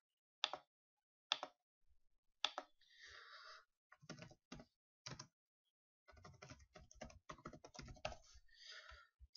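Someone types a domain name on a computer keyboard, with close, crisp keystrokes arriving in a few spaced clicks before settling into quick, dense bursts of typing. No voices are heard.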